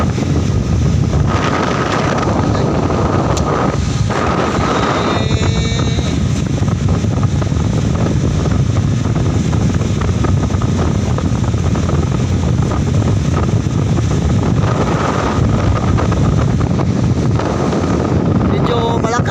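Loud, constant wind buffets the microphone on a boat at sea, with a low engine rumble and splashing water underneath.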